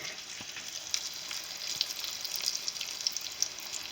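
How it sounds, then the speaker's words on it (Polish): Quiet, steady sizzling of eggplant slices frying in a pan, with small crackles and pops scattered throughout. "niech się dobrze obsmażą, żeby się termicznie bakłażan obrobił"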